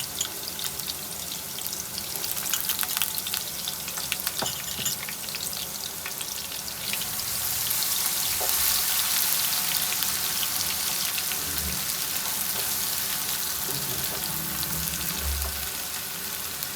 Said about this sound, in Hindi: ऑयल गरम हो गया है, प्याज डाल देते हैं।